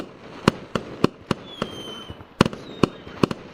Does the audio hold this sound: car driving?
no